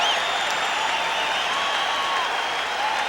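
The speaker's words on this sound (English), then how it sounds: "Listen to the crowd as the Celtics have come back" Arena crowd roaring steadily at an NBA playoff game between the Bulls and Celtics in Boston as the Celtics rally late, a dense, loud, continuous wash of cheering with no break.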